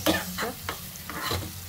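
Green mango chutney being stirred into a hot tempering of mustard seeds, cumin and fenugreek in a pan, making a close soft sizzle with several scraping stirs over a short stretch and no talk.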